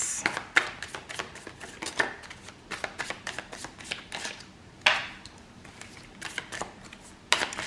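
Tarot cards are shuffled in quick riffling bursts, several crisp flurries of card slaps spread across the clip, close and fairly quiet with no talking.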